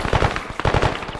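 Rapid bursts of machine gun fire in a military video game, loud and close, with rhythmic repeated shots across a brief span and no speech.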